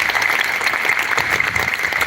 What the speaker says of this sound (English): I'd love to give them a round of applause.